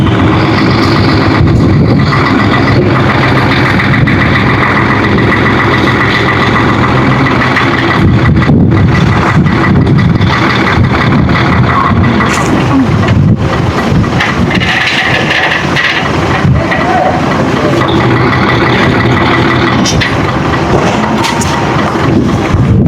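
A truck engine runs steadily at a hollow-block delivery, a loud, continuous low rumble with gusts of wind buffeting the microphone throughout.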